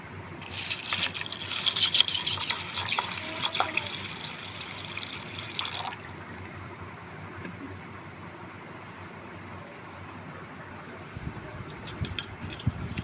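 Soaked dried peas being rinsed in water for dal chanachur, with sloshing and splashing loudest over the first few seconds, then a quieter steady trickle and faint drips.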